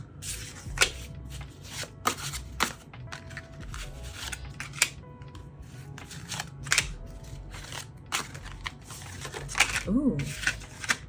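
Tarot cards being shuffled and handled, a series of sharp riffling snaps and soft card slaps at irregular intervals, close to the microphone, with a voice speaking quietly in between.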